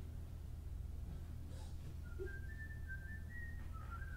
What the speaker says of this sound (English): Yes, he's always whistling.